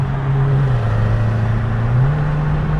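Street traffic heard from inside a car among aggressive street driving, a loud, close, steady engine drone whose pitch dips and then rises again, with no talk.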